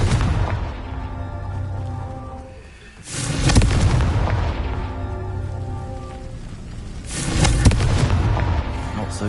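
Confringo fire spell blasts in the Hogwarts Legacy video game, with a loud crackling, rumbling explosion followed by a second fiery burst a few seconds later, each decaying into a fizzing roar.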